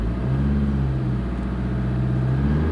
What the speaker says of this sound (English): as I put my foot in the accelerator here